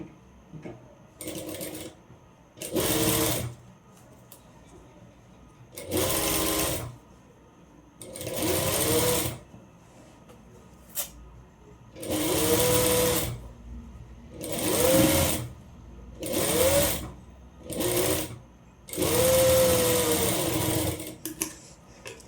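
A sewing machine stitches down a folded fabric edge on a one-piece umbrella frock. It runs in repeated bursts of about one to two seconds, separated by short pauses. The machine is close and fairly loud, and nobody speaks.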